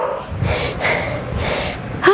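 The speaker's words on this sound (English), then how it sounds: "Oh, do you hear me breathing hard?" Heavy, hard breathing from a person mid-way through a stability ball cardio core workout, with several loud breathy gasps close to the mic and a sharper intake at the end.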